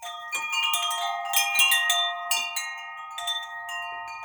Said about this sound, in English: So let's ring the large chimes, and it's going to be loud